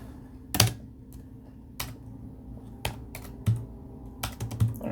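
Fingers type on a computer keyboard with a German layout while entering compiler commands: quiet, close, irregular key clicks in small bursts with short pauses between them.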